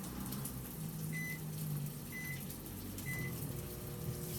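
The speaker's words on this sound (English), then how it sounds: "I put it in the microwave" A faint, steady microwave oven hum runs quietly in the background while heating a breakfast sandwich maker, with three short, evenly spaced beeps.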